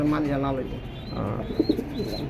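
Pigeons coo softly in a pen at a bird market, a short low murmur mixed under someone talking nearby.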